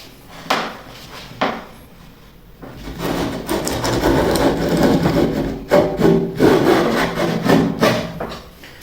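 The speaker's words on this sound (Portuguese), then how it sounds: "Vamos para a segunda passada agora, já com a lâmina um pouquinho mais para baixo, vai remover um pouquinho mais de madeira." A hand plane is pushed along wood in lutherie work with the blade set slightly deeper, giving a few short scraping strokes and then a longer, steady rasping pass, close up, with no speech.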